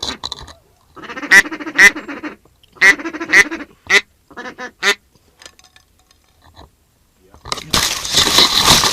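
Ducks quack loudly and nearby during a hunt, in rapid bursts of calls with pauses between them, followed by a sudden rush of noise at the end.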